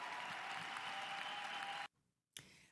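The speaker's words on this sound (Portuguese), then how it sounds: "Donald Trump foi aplaudido de pé muitas vezes ao longo desse discurso de meia hora" Applause for Donald Trump's inauguration speech, heard as a dense burst of crowd clapping that cuts off abruptly, followed by a brief silence and a short return of noise.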